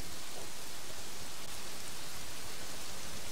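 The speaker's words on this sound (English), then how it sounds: "And now it's raining." Rain falls steadily in the video game Kingdoms and Castles, a dense, even hiss that stays at one level throughout with no other sounds.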